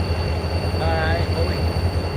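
The CP Heritage 7015 locomotive on train NS 179 with NS 1832 heads out past Coffey's Cliff, a continuous low rail rumble with steady tonal hum and faint background voices.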